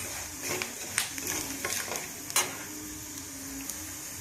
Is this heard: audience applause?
no